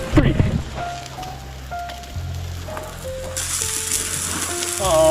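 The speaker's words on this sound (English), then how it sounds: "Now I'm adding some pork, onions, and jalapenos, and yellow lentils and rice." Pork, onions, jalapenos, yellow lentils and rice cooking in a pot over an outdoor campfire, a soft sizzle and crackle with metallic clinks and scraping from the pot, rising to a brighter hiss at the end.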